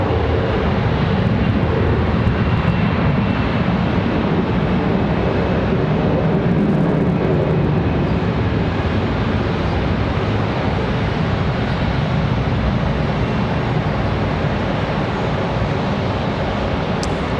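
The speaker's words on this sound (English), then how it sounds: "A321 departure." An Airbus A321 departs Charlotte Douglas airport, its jet engines producing a steady, loud, broadband roar that holds without a break throughout, with no voices over it.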